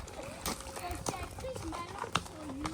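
Pony hooves clip-clopping at a walk during an outdoor ride, a steady irregular patter of footfalls with children's voices talking over them.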